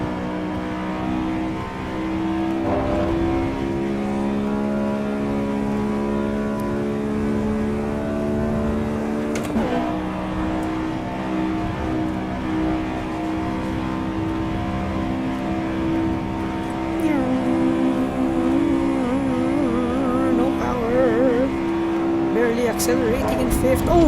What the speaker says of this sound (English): Accelerating in fifth.